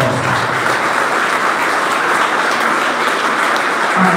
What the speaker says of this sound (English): So give these guys all a big round of applause.